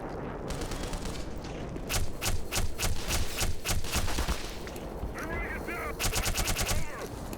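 Rapid bursts of gunfire in Black Mesa, loud and close, come in rhythmic volleys separated by short pauses, with some mechanical whirring and creature cries mixed in.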